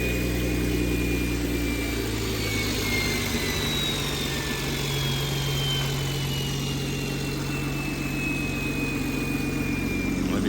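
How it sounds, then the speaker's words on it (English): A BMW 440i fitted with a Speed Tech top-mount 6466 turbo idles just after a cold start, a steady, loud, low-pitched drone with a high whine slowly falling in pitch. "So you just started up just now. Nice little cold start."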